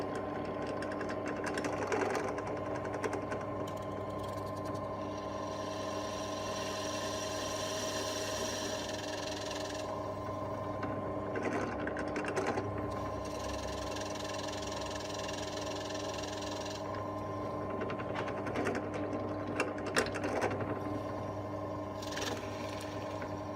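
A steady motorized drill whine with a 6.5mm bit runs continuously for a long stretch, with faint shifts in pitch and a few small knocks as it bores through knife handle scales.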